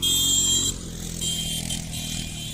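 Quad bike engines drone steadily at the Sam Sand Dunes desert safari near Jaisalmer, a close, loud motor hum that eases slightly after the first moment and then holds steady, with no talking.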